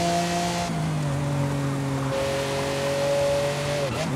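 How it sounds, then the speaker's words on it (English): A car engine in the video game Forza Horizon 5 drones steadily with shifting tonal pitches, easing down and rising again, ending in a short drop, with no talking. "so you guys can listen to the car"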